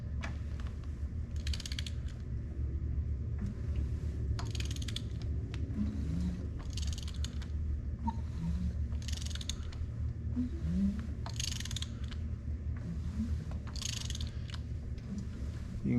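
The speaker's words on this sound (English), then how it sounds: "let's put a ratchet on the crank bolt and just see how this thing turns over, if we feel anything or hear anything" A ratchet on the crank bolt slowly turns over a Chevy 350 engine, producing repeated rhythmic creaks and clicks in regular strokes, close and moderately quiet over a steady low hum.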